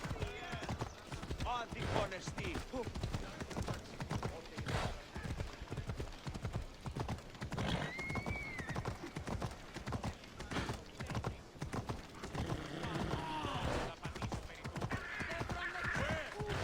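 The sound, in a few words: horse hooves in Assassin's Creed Odyssey video game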